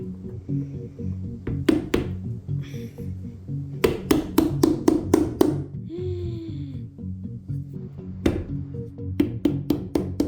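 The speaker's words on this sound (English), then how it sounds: "I use the hammer." A hammer strikes in short clusters of sharp taps while refinishing a vintage dining set, close and distinct over a background music track.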